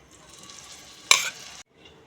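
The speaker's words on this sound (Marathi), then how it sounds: "एक चमचा तूप ते पनीर बारीक करून घेतलेलं घालून घ्यायचं आहे" Mashed paneer stirred in ghee in a pan, a soft hissing sizzle with one sharp scrape of a spoon partway through, then a brief drop to quiet.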